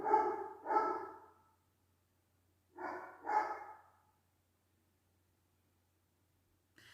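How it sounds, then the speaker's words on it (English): A dog barks in two quick pairs of sharp, fairly close barks separated by a pause, with near silence between them. "I'm just going to need to speak to the dog again."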